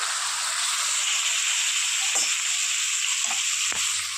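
Lote fish (Bombay duck) being stir-fried with turmeric powder and a splash of water, a steady close sizzle and hiss running throughout with a few soft clunks of a spatula.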